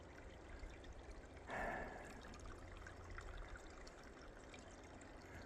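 Water trickles out of a cut-back hillside at old coal mine workings near Fairfax, Washington, a faint, steady babbling flow with a brief louder splash partway through.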